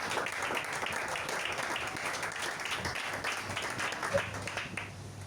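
Steady applause from a church congregation, many hands clapping continuously at moderate level, with some voices underneath and a few louder claps near the end.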